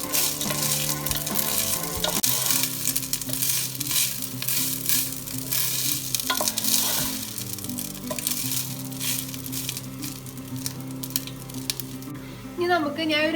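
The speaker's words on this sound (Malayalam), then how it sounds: "അരി പൊട്ടി പോവാണ്ട് നമ്മൾ ഇളക്കി കൊടുക്കണം." Rice grains being stirred in hot ghee give off a continuous crackling sizzle with repeated spoon scrapes, close and loud throughout.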